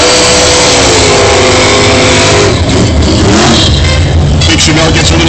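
1969 Chevelle SS 396 drag racing down the strip: a very loud, sustained engine roar climbing and revving hard, with a commentator talking over it.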